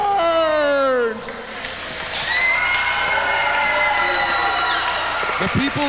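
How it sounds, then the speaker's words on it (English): A crowd cheers and shouts at a wrestling event, a loud sustained roar with whistles and voices, briefly dipping after about a second and then swelling again. "The people are cheering"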